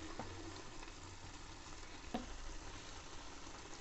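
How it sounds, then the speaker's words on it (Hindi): Milk and carrots for carrot halwa bubble and sizzle softly in a pan, a faint continuous simmer with one brief clink partway through. "दूध अच्छे से बॉयल होने लगा है"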